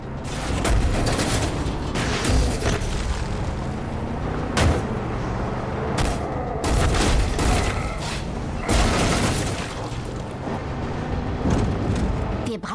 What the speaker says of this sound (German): Wenn der Hauptcharakter sie trifft, explodieren sie.